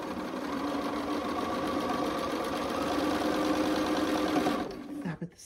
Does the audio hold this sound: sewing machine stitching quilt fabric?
yes